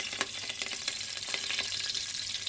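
Washed curry leaves hitting hot oil, a bright crackling sizzle with sharp spitting pops in the first second settling into a steady fry, moderately quiet with no talk.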